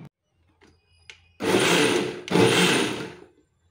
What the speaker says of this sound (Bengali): এবার একসাথে ভালো করে একটা মিক্সি পেস্ট বানিয়ে নেব।